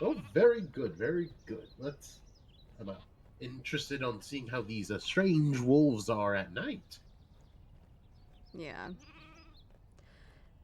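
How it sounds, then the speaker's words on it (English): Sheep bleating outside the room, several wavering calls close by that mix with talking voices, followed by a quieter stretch and one more bleat near the end. "I'm sure you guys can hear the sheep outside."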